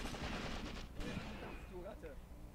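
Gunfire in the WWII tactical war game Graviteam Tactics, a few muffled, distant shots and brief bursts over a rumbling battle ambience, faint throughout.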